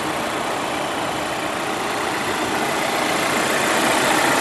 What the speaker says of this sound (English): this does have Volvo's 316 horsepower T6 engine